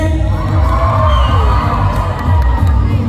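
A large audience at the Miss Hmong Laos 2025 beauty pageant cheers and shouts loudly and continuously for a contestant, forming a dense roar of excited voices.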